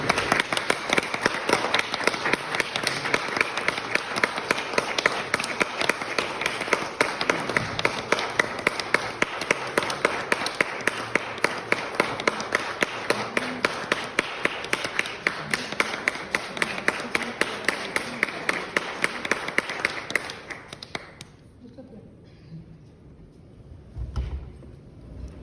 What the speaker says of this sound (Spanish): me permito interrumpir para felicitar a Margit, que está aquí con nosotros, y dedicarle un aplauso,